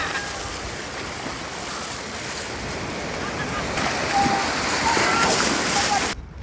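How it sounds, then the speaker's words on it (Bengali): Waves on a river around an island near a char, a continuous rushing wash of water with wind buffeting the microphone, steady and moderately loud, cutting off at the end. "যেখানে আমরা যাচ্ছি তার ঢেউগুলো একটু দেখেন"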